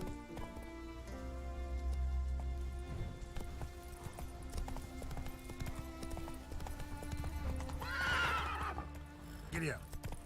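A horse in The Witcher 3 trots along with steady clip-clop hoofbeats and a whinny, under game music and ambient sound.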